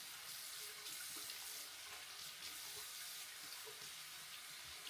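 A bathroom faucet runs steadily while hair dye is rinsed off at the sink, giving a constant hiss of running water with faint splashes throughout.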